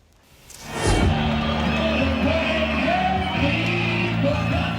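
Screaming youngsters and a rowdy crowd fill a New Year's Eve night at Coolangatta, a loud, sustained din of yells and whoops over deafening rock music that swells up in the first second and then holds steady.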